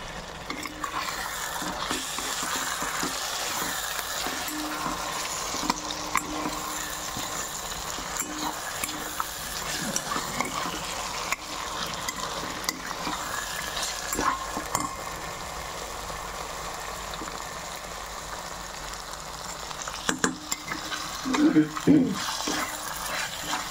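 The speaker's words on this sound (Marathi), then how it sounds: "व्यवस्थित मिक्स करून घ्यायचं आहे" Bhogi vegetable khengat with hurda is stirred and mixed in a pan over a soft sizzle, with repeated scraping and clinking of a spoon against the pan and a louder clatter near the end, close by and without speech.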